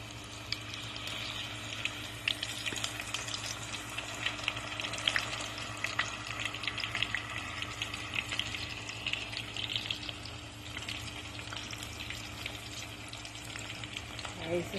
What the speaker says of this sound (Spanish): Ahí se están friendo.